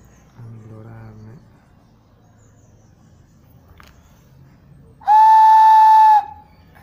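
A handmade ceramic whistle sounds twice: first a short, breathy, lower tone, then a loud, piercing, steady high note held for about a second against a quiet background.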